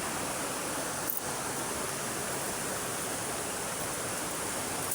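The Bagsit river runs as a steady broadband rush of water, close and unbroken, with no voices over it.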